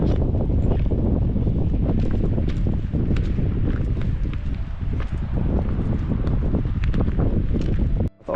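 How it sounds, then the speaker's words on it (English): Strong, gusty wind buffets the microphone on an exposed mountain ridge walk, a loud continuous roar of rumbling noise with faint crunches of footsteps on loose rock beneath and a brief drop near the end. "Got a ridge walk with this crazy wind"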